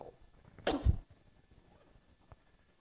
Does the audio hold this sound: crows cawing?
no